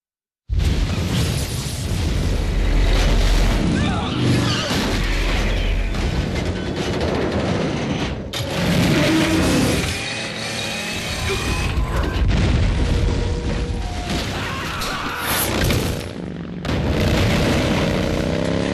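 Gunfire and booming blasts aimed at the Shagohod in Metal Gear Solid 3 go off in dense, loud bursts, with mechanical clanks, a dense game soundtrack and brief pauses between volleys.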